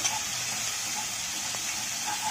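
Drumsticks sautéing in a pan give a steady, even sizzle of frying throughout, close and moderately loud with no breaks.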